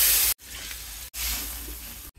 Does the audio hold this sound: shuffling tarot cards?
no